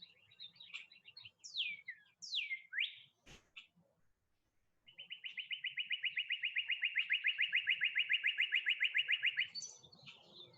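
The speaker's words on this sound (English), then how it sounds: "Got a very happy bird out there." A bird sings outdoors, clear and fairly close: a few quick whistled chirps and slurred notes, a short pause, then a long, rapid, even trill lasting several seconds before a last brief chirp.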